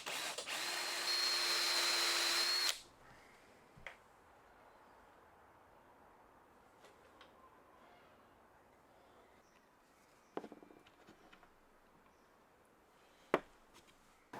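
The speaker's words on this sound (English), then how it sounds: "drill a couple of 10mm shallow holes" A power drill whines steadily for a few seconds, boring shallow 10mm holes for magnets, then stops, leaving a quiet room with a few sharp knocks.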